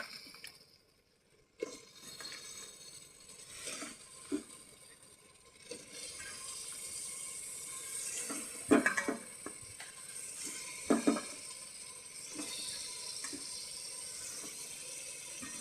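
Liquid poured over chicken in a pan while making chicken biryani, heard as intermittent close splashing and running-liquid sounds with a couple of louder bursts midway and no talking.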